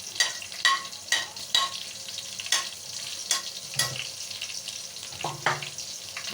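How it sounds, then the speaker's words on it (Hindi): Black peppercorns, cloves and onion sizzle in hot oil while being stirred for a dal tempering, with steady frying crackle and scraping spoon strokes close by, no talk. "ये हम भगार लगा रहे हैं दाल का"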